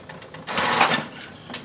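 A Brother MFC-J1205W inkjet printer starts a print job with a brief burst of close mechanical whirring and faint clicks, then settles quieter, with no speech.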